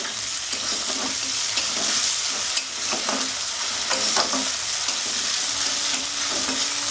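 Ginger paste sizzles loudly in a frying pan while it is stirred, with repeated scraping strokes over a continuous close hiss of frying, for Bengali-style chana dal with coconut. No voices.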